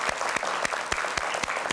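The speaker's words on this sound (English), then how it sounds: "So, giving applause." Audience applause after a panel discussion on personalized medicine, a steady patter of many hands with a few sharper individual claps standing out, heard briefly and fairly close.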